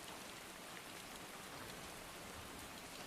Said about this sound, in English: The rain, I mean.